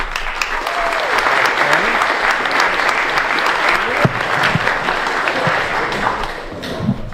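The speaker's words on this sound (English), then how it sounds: "I think everyone has to keep clapping here." Sustained applause from an audience at a community awards dinner, with many hands clapping steadily and evenly throughout, dense and fairly close.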